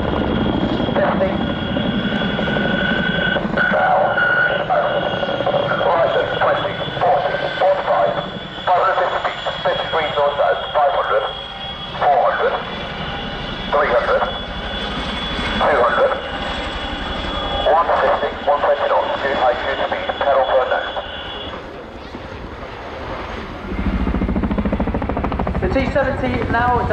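A T70 helicopter maneuvering at an airshow, its loud continuous rotor and turbine drone pulsing and shifting in pitch as it moves, with a commentator talking over it.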